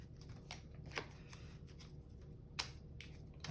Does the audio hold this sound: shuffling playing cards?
yes